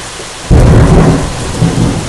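Heavy rain pours during a thunderstorm, and a loud, close thunderclap breaks in about halfway through and rolls on with a deep rumble under the steady downpour.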